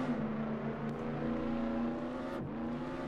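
A car in the Roblox game Jailbreak drives off with a steady, moderately loud engine hum. The pitch holds fairly even and dips briefly near the end, with no talk over it.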